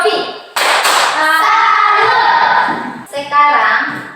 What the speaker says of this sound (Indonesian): Tepuk salut untuk Yofi